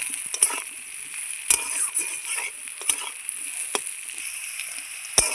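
Pieces of taro stem frying in oil make a continuous bright sizzle, broken by a few sharp clinks of a utensil against the pan.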